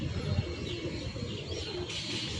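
Pigeons in a coop give soft, low cooing with a few faint chirps, under steady background hum and without speech.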